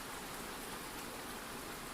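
Steady rain falls evenly and continuously as a soft, dense hiss with no distinct drops or pauses, moderately quiet ambience with no voices.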